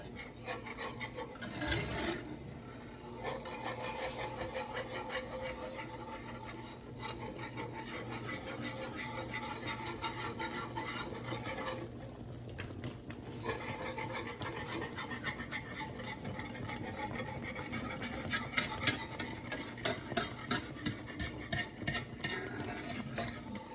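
A whisk stirs gravy in a pot on a stove, making continuous close scraping and rubbing against the pot that runs steadily throughout, with a faster patch of strokes near the end.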